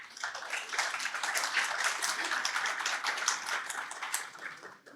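Audience at a Brazilian agribusiness congress in Paraná applauding steadily, a dense wash of many hands clapping for about five seconds that tapers off at the very end, with no talking over it.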